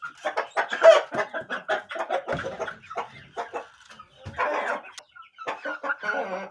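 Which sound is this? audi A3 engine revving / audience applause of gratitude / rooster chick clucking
rooster chick clucking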